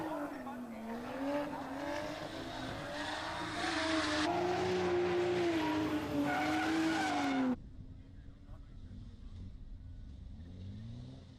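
Drift cars circling a track at a drift competition, engines revving hard with wavering pitch and tyres squealing, loud and continuous before cutting off abruptly to a quieter distant engine hum.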